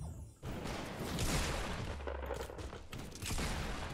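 Loud, continuous gunfire in the video game Fortnite Battle Royale rattles out in a sustained burst of shots for several seconds, close and harsh, with no talking.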